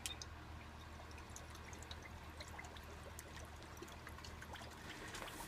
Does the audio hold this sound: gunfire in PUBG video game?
no